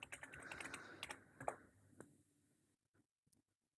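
Quick, light keystrokes on a computer keyboard tap out a password during a MX Linux login, a rapid close patter that slows and fades into a few final isolated clicks.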